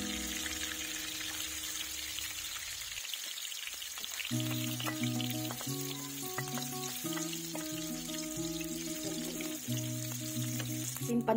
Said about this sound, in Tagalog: Piprituin natin guys yung mga meatball natin.